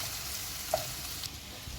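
Ginger and garlic sautéing in a pan, a steady soft sizzle with a faint clink partway through.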